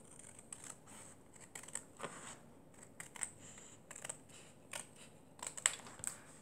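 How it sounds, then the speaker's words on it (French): Scissors snip through paper in a series of short, sharp cuts with irregular pauses, close up and fairly quiet, during a handmade scrapbook mini album project; no talking. "je vais couper ça proprement au ciseau"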